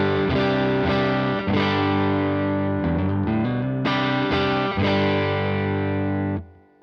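Electric guitar through a Donner Dumbal Drive pedal at its default tweed-style amp setting, a few strummed, mildly overdriven chords that sustain thickly and then cut off, loud and close, no speech.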